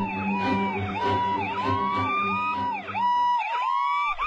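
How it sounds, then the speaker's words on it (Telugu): An ambulance siren wails in a steady up-and-down cycle, loud and close, with a faint murmur of a crowd beneath it and no talk over it. "టైంకి అంబులెన్స్ వస్తుంది."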